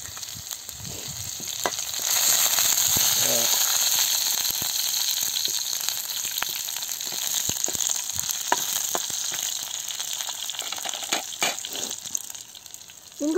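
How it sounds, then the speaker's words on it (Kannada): Curry leaves, garlic and green chilli sizzle in hot oil as a tempering for a village-style dry prawn and dal curry, a loud steady crackle with spattering pops and occasional stirring. "ಆಗಿದೆ ಒಗ್ಗರಣೆ"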